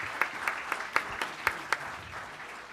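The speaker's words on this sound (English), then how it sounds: "let's give her a quick round of applause" Brief applause for a student presenter at a science and technology institute's final presentations: a small audience giving a handful of distinct, spaced claps, fairly sparse and close, over a quiet room.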